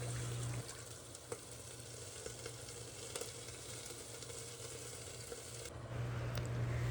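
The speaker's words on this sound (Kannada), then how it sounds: "ಇವಾಗ ಚೆನ್ನಾಗಿ ನೀರು ಕುದಿ ಬಂದಿದೆ." A pot of salted water comes to a rolling boil for jowar roti, giving a steady bubbling hiss with a low hum beneath and no speech.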